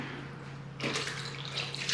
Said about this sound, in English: I'm just gonna pour this, half in this one,